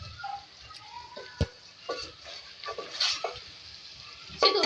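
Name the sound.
stirring chicken and potatoes frying in oil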